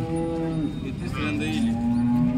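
A cow at a cattle market gives one long, low moo close by, steady and drawn out against faint background murmur.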